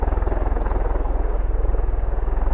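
A V-22 Osprey tiltrotor at an RAF Mildenhall airshow gives off a loud, steady rotor thrum with a rapid even pulsing beat, close and continuous throughout.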